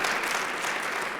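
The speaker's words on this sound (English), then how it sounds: "So we should all also give another round of applause to the panel." A conference audience at a cities summit applauds a panel, a short, dense burst of clapping heard on its own without speech.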